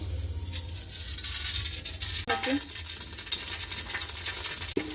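Oil frying steadily in a pan, a continuous close crackling hiss with a couple of brief clatters from stirring, no voices.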